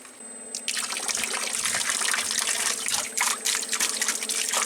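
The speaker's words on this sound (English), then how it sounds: "The pump is starting." A solar water pump from RPS runs and pumps water: after a brief quiet start, a steady, fairly loud rush of flowing, splashing water continues throughout over a faint low hum.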